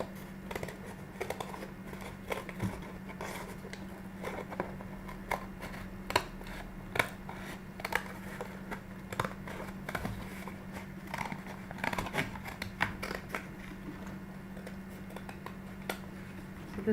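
Cardboard is cut by hand with scissors to make a doll base, giving quiet, irregular snips and crisp crackles over a faint steady hum, with no talking.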